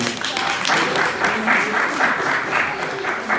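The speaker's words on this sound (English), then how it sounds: "A round of applause for Haji, please" Conference audience at a business chamber event in London gives a warm round of applause for a speaker, continuous crowd clapping for a few seconds with a voice talking over it.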